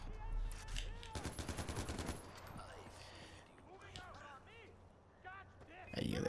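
Gunfire in the Far Cry 4 video game, with a rapid burst of automatic shots followed by scattered single reports and clatter, while voices talk over the action.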